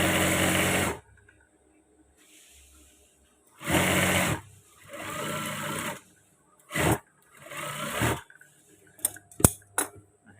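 A sewing machine stitches trousers in short separate bursts of rapid, close mechanical whirring and ticking, broken by quiet pauses and a few sharp clicks near the end.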